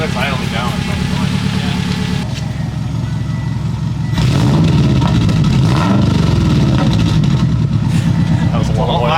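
A Subaru Impreza's DIY-rebuilt engine idles with a ticking exhaust leak, then its rumble swells louder partway through as it is revved.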